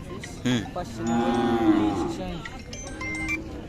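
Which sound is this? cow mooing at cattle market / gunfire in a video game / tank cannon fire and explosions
cow mooing at cattle market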